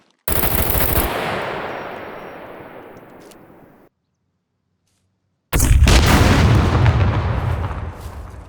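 A rifle fires in the Scum video game in two long, loud, continuous automatic bursts, the first trailing off into echo, then a few seconds of silence before the second burst begins abruptly.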